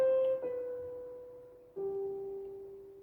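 Piano playing a melody from the movie IT at a quicker pace: a few clear sustained notes struck in sequence, ringing softly and decaying with no other sound around them.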